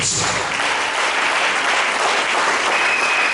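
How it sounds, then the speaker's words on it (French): A church congregation at a Sunday service applauds, a loud, dense, sustained clapping from a large crowd that fills the whole space without pause. "Acclamons le Seigneur."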